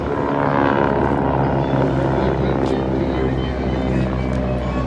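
A Vultee Valiant WWII trainer airplane flies at an air show with a loud, steady propeller-engine drone that holds strong and continuous throughout, close overhead.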